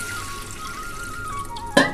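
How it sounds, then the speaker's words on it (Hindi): One kilogram of arwa rice mixed with 200 grams of chana dal is swished and rinsed in water in a vessel, with soft sloshing throughout and a sharper splash near the end. "अरवा चावल ली हूँ 1 kg, इसमें 200 ग्राम चना दाल है, दोनों को मिला ली हूँ एक में। अब इसको बढ़िया से धो लेंगे।"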